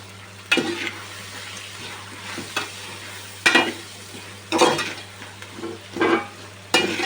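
Cooking ingredients with turmeric are stirred and mixed in an oily pan: a low frying sizzle runs underneath, broken by several louder scraping stirs of a spoon against the pan, close and without speech.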